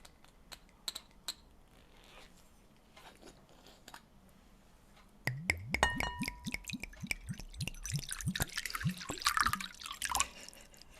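Water is poured into a singing bowl, starting as scattered faint drips and taps, then becoming a louder run of rapid splashing drops with bright ringing tones from the bowl, close and without talk.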